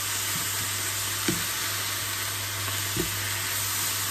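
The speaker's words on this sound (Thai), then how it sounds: "ทีนี้เราก็ผัดไปเรื่อยๆนะคะชิมรสตามชอบผัดจนกว่าเขาจะแห้ง" A sago dumpling filling with salted radish is stir-fried until dry, giving a constant, even frying hiss with a couple of faint spatula knocks against the pan, close by and without speech.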